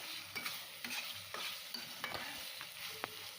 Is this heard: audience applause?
no